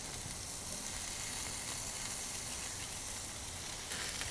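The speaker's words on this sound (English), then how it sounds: "as the burger cooks" A burger patty sizzles steadily in a pan, a dense, continuous hiss of frying fat that stays loud and close throughout with no talking.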